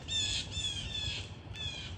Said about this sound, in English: the sounds coming from in there are gray squirrel sounds